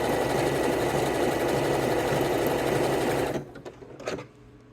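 A sewing machine runs steadily, stitching fold-over elastic onto fabric in a fast, loud, continuous whir for about three seconds, then stops, leaving a few soft clicks and handling noises.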